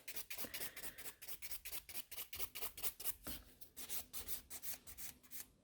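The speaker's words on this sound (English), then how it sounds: "Because this way we are filing the entire nail." A nail file rasps back and forth across a fingernail in quick, regular strokes, close and crisp, about three to four scrapes per second, with a brief pause midway and no talking.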